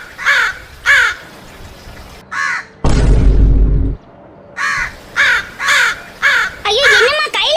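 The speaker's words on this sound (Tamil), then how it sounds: "என்னது இது இப்படி அண்டங்காக்காவா கிடந்து கொத்துது?" Cartoon crows caw again and again in harsh, rhythmic bursts, with a loud thumping crash in the middle and a voice shouting over the racket.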